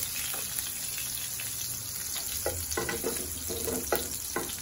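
Tuna frying in oil and butter in a pan, a steady close sizzle with occasional sharper crackles and a few stirring or scraping knocks, no voices.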